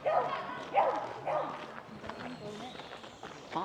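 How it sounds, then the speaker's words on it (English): A dachshund in Delamere Forest gives a few sharp barks close by, mixed with footsteps and people talking on a busy woodland trail. "The sausage dog has joined our clan."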